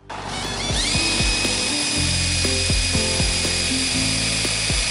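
Power drill boring a hole through the steel body of a 2022 Ford Transit crew van, a steady high whine with a sharp start, loud and close, with brief metallic ratcheting knocks underneath and no talking.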